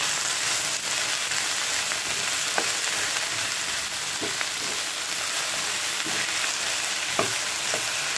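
Okra masala with salt and turmeric fries in a pan, a close, continuous hissing sizzle with occasional light scrapes and taps from stirring.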